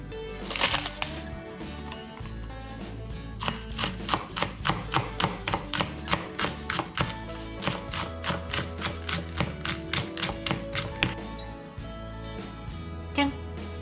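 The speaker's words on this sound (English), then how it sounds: "Next, I'm going to mince spring onion." Knife mincing spring onion on a cutting board, a steady run of quick, crisp chops close by, pausing briefly before resuming, with a faint background voice.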